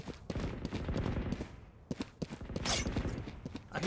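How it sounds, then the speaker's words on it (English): Bursts of rapid gunfire from a Valorant match on the Haven map, crackling in repeated volleys at mid distance, with sharp individual shots between sustained runs of fire. "I hear shooting like mid-ish"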